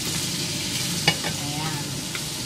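Cucumber, carrots, ginger and garlic stir-fry in a hot pan, a steady close sizzle with scraping stirs and a sharp clink of a utensil against the pan partway through, no voices.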